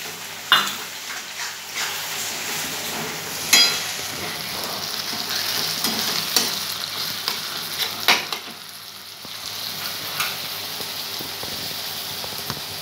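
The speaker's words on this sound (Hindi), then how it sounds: "एक बाउल प्याज, प्याज को ब्राउन होते तब तक करना है। अभी टमाटर डालना है।" Onions and tomatoes frying in a pan, a continuous bright sizzle broken by sharp scraping stirs and clinks of a spoon against the pan, close and fairly loud with no talking.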